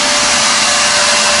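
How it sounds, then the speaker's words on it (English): A vacuum cleaner with a tube duct-taped on, set up to suck out a wasp nest, roars loudly and steadily at close range as a constant broadband whoosh with no talking. "I just set up my vacuum with the tube"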